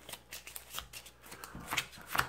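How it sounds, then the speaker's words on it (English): Starter cards from the DC Deck Building Game being shuffled by hand, a soft, rapid riffle of flicks and slaps, close and fairly quiet, with no talking. "So let's go ahead and give a little shuffle up here and take a look at what we have."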